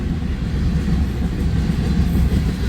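Union Pacific freight train passing, with the UP 1989 Denver Rio Grande heritage locomotive as third unit, giving a loud continuous low rumble and rolling roar of railcars close by.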